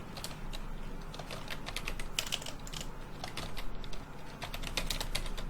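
Rapid, irregular typing on a computer keyboard, a steady stream of close, crisp key clicks continuing for several seconds over faint background hiss.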